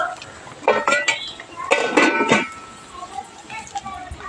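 A metal lid is set back onto a cooking pan with several clattering clinks and scrapes of cookware, close and fairly loud, followed by quieter kitchen taps.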